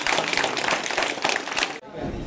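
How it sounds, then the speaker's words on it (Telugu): An outdoor crowd at a village gathering in Jangalapalli, Mahabubabad district, claps in a dense burst of applause that stops abruptly after about two seconds, with voices audible. "చప్పట్లు కొట్టాలి, ఇంత మంచి కాన్ఫిడెన్స్."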